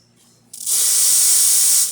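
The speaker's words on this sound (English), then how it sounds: "Nice strong steam, as all La Marzoccos have." After a quiet moment, a loud, steady steam hiss from a La Marzocco Linea Micra espresso machine's steam wand bursts on close by and holds strongly for over a second before easing off.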